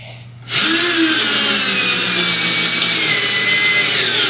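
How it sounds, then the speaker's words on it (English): A power drill with a very wide bit starts up after a brief quiet moment and grinds steadily straight down through material, loud and close, with a high whine over a rough low rumble. "it's a very wide drill bit"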